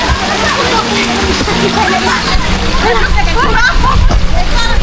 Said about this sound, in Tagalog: Umuulan! Rain, rain!